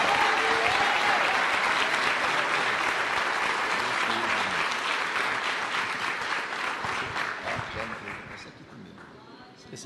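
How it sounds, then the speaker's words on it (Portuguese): A church congregation applauds in worship, a loud dense sustained wash of clapping with voices over it, thinning and fading out toward the end. "Glória a Deus, aplauda mais ao Senhor."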